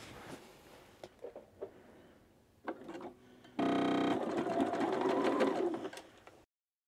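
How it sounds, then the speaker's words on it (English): A domestic sewing machine stitches fabric for an upcycled clutch, running in one steady mechanical burst of about half a second after a few quiet clicks and handling noises, close and clear with no talk. "begin our first stitch"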